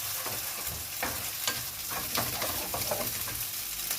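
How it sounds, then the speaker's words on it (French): Shrimp being stirred into scrambled eggs in a hot pan for fried rice, a steady sizzle broken by repeated short scraping stirs, close and fairly quiet, with no talking. "Et on mélange les crevettes dans les œufs."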